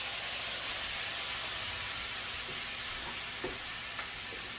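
Steady sizzling of tenderized steak bits frying in a pan, with a few faint clinks of stirring; no voices.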